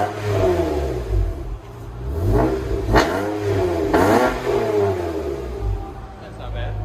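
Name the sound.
Acura TL Type S 3.5L V6 exhaust revving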